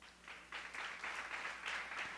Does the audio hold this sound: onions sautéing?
no